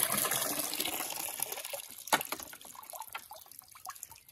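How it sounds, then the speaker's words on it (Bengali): Water running and splashing steadily as a container fills up for bathing a cow, a continuous gushing wash that thins into scattered drips and trickles toward the end. "জল পড়ছে, মোটামুটি ভরে গেছে।"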